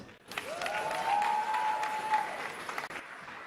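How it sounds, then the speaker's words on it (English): Audience clapping for performers at a celebration, sustained and fairly even, with a sustained whistle-like tone sliding up and holding across the middle before the clapping tails off. "So can we give all the guys performing a round of applause?"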